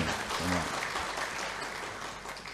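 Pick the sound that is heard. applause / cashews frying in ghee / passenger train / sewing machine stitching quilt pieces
applause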